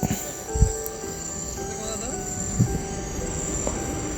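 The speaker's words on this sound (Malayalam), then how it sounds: "നമ്മുടെ ട്രെയിൻ എത്തിയിട്ടുണ്ട്" A train arriving at a railway station rumbles and squeals nearby with tonal wheel whines and a couple of low thumps, while a faint insect-like buzz hangs in the background.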